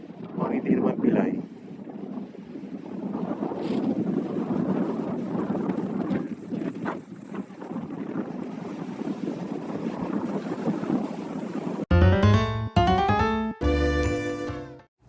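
Strong wind buffets the microphone in heavy gusts for most of the clip, ending with a few loud tonal horn-like blasts.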